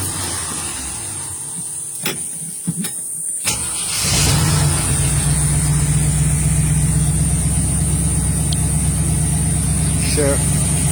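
A 1982 Jeep CJ7 engine cranks a few times and catches around four seconds in, then idles steadily and loudly up close, with a brief voice near the end.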